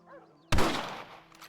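A single loud rifle shot in Red Dead Redemption cracks out sharply after a quiet moment and decays over about a second, with faint tonal background sound before it.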